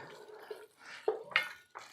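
Coxinha filling sauce being stirred in a hot pan, quiet scraping and wet clinks of a spoon against the pan in short irregular strokes, close and soft.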